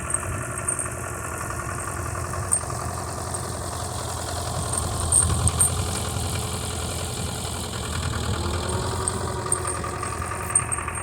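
Vintage International two-wheel-drive tractor working a scraper blade to clear snow and ice, its engine giving a steady, moderate idling drone with slight variations in load throughout, no voices present.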